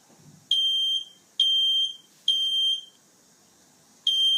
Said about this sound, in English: to alert us about the fire alarm sounds ringing in our home